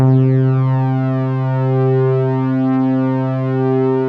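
A thick, steady synthesizer drone made of several slightly mistuned voices, with a slow wavering beating in the tone throughout, sustained and loud.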